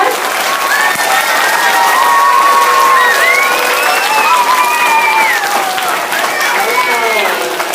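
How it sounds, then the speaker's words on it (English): Students at a school Lighthouse Team inauguration applaud and cheer loudly, a dense steady wash of clapping with high children's shouts and whoops running throughout at close range. "Let's give them all a round of applause."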